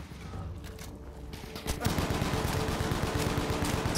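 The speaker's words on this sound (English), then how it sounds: "the hipfire right there should be a ton better" Machine gun hipfire in Battlefield V from a Gurkha support class loadout, a rapid, even burst of loud shots that starts abruptly partway in and keeps hammering to the end, after quieter game noise.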